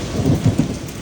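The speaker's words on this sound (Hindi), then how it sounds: "गड़गड़ाहट भी बहुत ज़बरदस्त हो रही है" Heavy monsoon rain pours down in a hill region, loud and close, while low thunder rumbles steadily underneath the dense hiss of the downpour.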